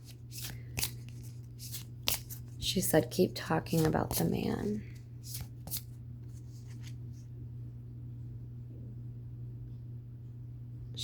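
Playing cards are shuffled and riffled by hand in several quick bursts, faint and close, with someone talking through the shuffling.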